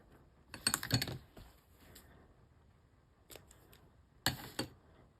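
Scissors snip through paper for a fall birthday card, a quick cluster of crisp cuts followed by two shorter bursts of snipping later, close and fairly quiet.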